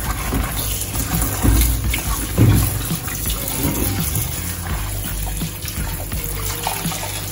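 Tap water runs steadily while sorrel leaves are rinsed for a sorrel glaze, a continuous close splashing rush with a few heavier low thumps as the leaves are handled.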